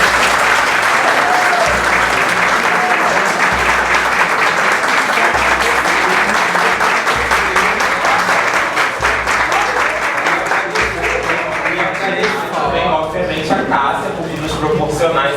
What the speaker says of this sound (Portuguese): Uma salva de palmas para...